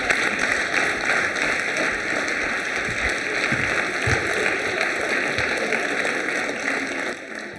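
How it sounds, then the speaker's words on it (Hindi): Audience applause fills a college auditorium during a Holi quiz show at a girls' college, a steady dense wash of clapping that holds for several seconds and fades slightly at the end. "तालियां जोरों से बजाइए"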